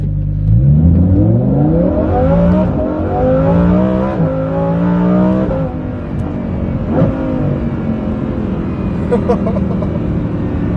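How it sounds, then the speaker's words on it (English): Lamborghini Huracan Performante with a Kline Inconel exhaust revving hard, a loud close engine climbing through rising pitch sweeps that peak and fall back to a rough idle with a few short blips. "What you just heard is the Kline-Innovation Inconel exhaust system for the Lamborghini Huracan"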